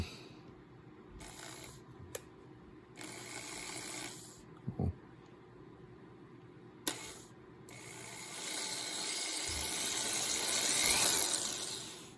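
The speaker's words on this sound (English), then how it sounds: "don't ever hold something while you're drilling it." Intermittent grinding and ratcheting of a hand drill working into metal on a Polaris RZR 800 sway bar replacement, with clicks and scraping bursts that swell louder toward the end.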